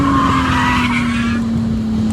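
Another car spinning out on an autocross track makes a loud, sustained tire squeal that holds steady for about two seconds and then fades away.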